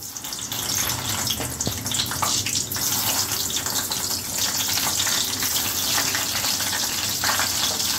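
Hot oil crackles and sizzles steadily in a pan as stuffed brinjals fry for gutthi vankai curry, a dense, continuous hiss close by with no talking.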